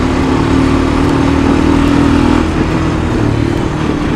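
Honda Fourtrax 300 ATV engine droning steadily at high revs close by, holding a strong pitch before easing off slightly partway through, as if shifting up a gear.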